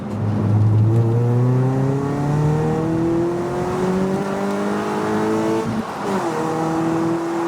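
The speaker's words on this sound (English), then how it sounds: "we'll try a second gear pull from here" A Ford Fiesta ST150 pulls hard in second gear from about 3,000 rpm, its engine note climbing steadily and loudly from inside the cabin, with a brief dip near 6 seconds as revs drop.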